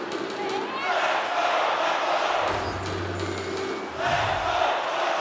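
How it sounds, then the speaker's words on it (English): Arena crowd noise in NHL 23 ice hockey, a steady buzzing roar of fans with swelling cheers and a low horn-like drone midway, heard under commentary voices. "Crowd's buzzing, ready to get things back underway"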